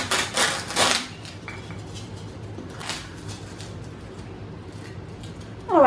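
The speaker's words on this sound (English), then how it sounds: "I'm going to shave them down and I'm just going to be using a knife" A knife shaves the square corners off a block of floral foam for a tropical flower arrangement, giving a couple of short scraping strokes near the start and another mid-clip, close and fairly loud against a quiet room.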